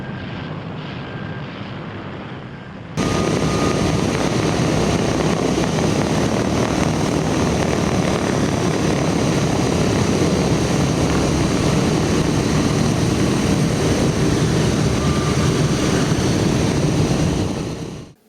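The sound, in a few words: B-17 Flying Fortress propeller engines running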